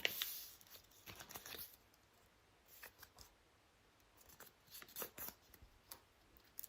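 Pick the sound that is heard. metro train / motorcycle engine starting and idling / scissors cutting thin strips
scissors cutting thin strips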